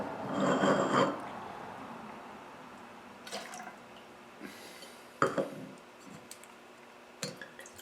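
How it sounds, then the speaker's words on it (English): Water splashes and swirls inside a wine glass during a quick rinse, a broad wash of liquid sound for about a second, followed by scattered faint drips and small glassy clicks. "Let's give it a little rinse here."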